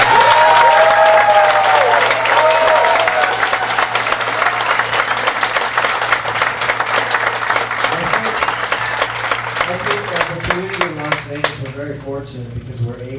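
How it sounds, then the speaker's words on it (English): An audience applauds volunteers at an art show, sustained dense clapping that fills the room for the whole stretch, then thins into scattered individual claps near the end. "can we give them a huge round of applause?"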